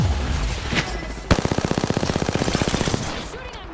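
Rapid automatic gunfire in Apex Legends opens with a single loud shot, followed by a long, evenly spaced burst of close shots lasting about two seconds before it stops.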